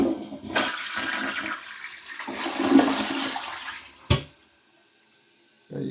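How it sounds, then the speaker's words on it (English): A toilet with slow-flushing, vinegar-cleaned jets flushes close by in a loud rushing surge of water that swirls for several seconds, then ends with a sharp gurgle and quiet before the tank begins refilling. "Go ahead and flush it."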